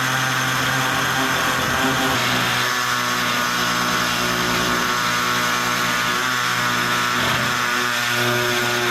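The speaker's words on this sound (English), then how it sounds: "we're going to try using the air saw here to cut this out" An air saw cuts out the rusted floor of a third-generation Camaro, a continuous high, buzzing whine with a steady pitch and a strong rasp, loud and close without pause.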